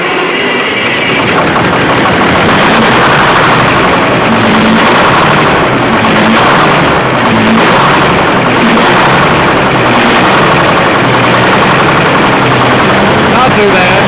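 An old Detroit diesel engine on hydraulic equipment idles cold, producing a loud, unbroken, close-up rumble and clatter that holds steady throughout.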